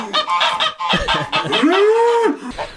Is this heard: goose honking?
yes